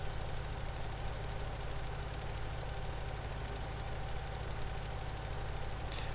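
A Magnum tractor engine in Farming Simulator 17 drones steadily with a low, even rumble and chugging vibration, unchanging throughout without any voices.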